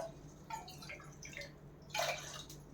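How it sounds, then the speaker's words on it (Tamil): Water poured from a cup into washed lentils in a pressure cooker, a few quiet splashing pours in short bursts heard close up against a low background hum. "2 கப்பு தண்ணி சேர்த்துருவோம்"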